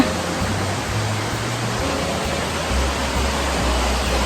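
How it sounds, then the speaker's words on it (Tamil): A small waterfall and stream flowing beside a mountain chapel built in 1774, a steady, loud, close rush of water that fills the whole stretch without a break. "எங்களுக்கு பின்னால் நீரோடை விழுந்து ஓடிக்கிட்டு இருக்குது சிற்றருவின"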